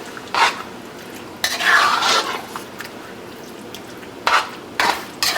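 A Mexican lasagna sauce being stirred in a pan, with a few short bursts of scraping and spoon-on-pan clatter separated by quieter gaps and light background sizzle.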